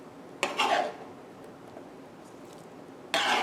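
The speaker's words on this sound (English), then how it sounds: "In goes our tomato." Diced tomato tipped into a bowl for a calamari salad ceviche, two short clattering bursts of pieces and utensil against the bowl separated by a quiet gap.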